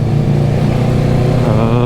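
A 2014 Kawasaki ER6-N motorcycle engine runs loud and steady with a low, even drone throughout, with no clear rise in revs.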